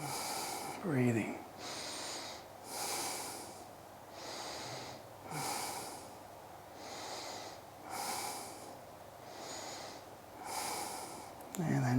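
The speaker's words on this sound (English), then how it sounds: "Breathing." Slow rhythmic breathing during a yoga floor sequence, audible inhales and exhales alternating roughly every second or so, close and soft, with a voice speaking briefly near the start.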